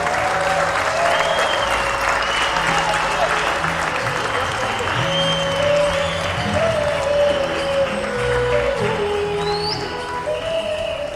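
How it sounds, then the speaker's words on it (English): Audience applause at a Salt March 2012 commemorative event, a steady broad wash of clapping that runs through the whole stretch with crowd murmur and some voices mixed in underneath. "I think we deserve a nice big round of applause."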